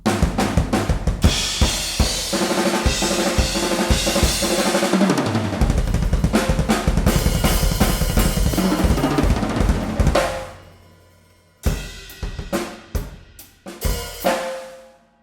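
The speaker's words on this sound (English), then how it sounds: "This is a drum set. It sounds like this." A full drum kit plays a busy groove with kick, snare and cymbals, loud and continuous, then pauses before a few closing accented hits.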